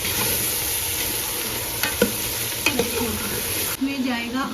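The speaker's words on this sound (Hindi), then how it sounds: "अब हम इन सबकी अच्छे से भुनाई करेंगे।" Dry spices with salt and dried fenugreek roasting in a pan for chicken tola, giving a steady close sizzle broken by a few sharp spoon scrapes and stirs.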